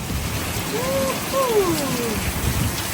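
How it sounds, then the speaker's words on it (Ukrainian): Heavy rain downpour outside, a dense steady hiss of falling water that fills the whole stretch, with a faint whistling tone and no voices over it. "Отака злива в нас."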